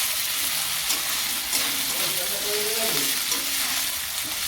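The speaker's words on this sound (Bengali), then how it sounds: "আদা রসুনটা আমি এর মধ্যে ভালো করে মিক্স করে নিচ্ছি, ভেজে নিচ্ছি।" Ginger-garlic paste sizzles steadily with onions in a hot pan for an egg curry, a dense unbroken frying hiss with soft stirring scrapes underneath, close and fairly loud.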